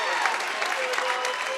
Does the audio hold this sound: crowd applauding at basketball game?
yes